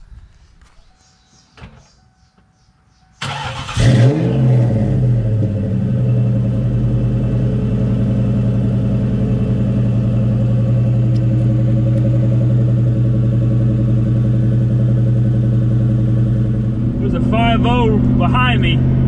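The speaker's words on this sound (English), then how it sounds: "here's a cold start for y'all." A naturally aspirated 4V Ford Mustang Mach 1 engine with an exhaust leak cold starts after a few quiet seconds, catching abruptly with a loud burst and settling into a steady, deep, droning high idle that runs to the end.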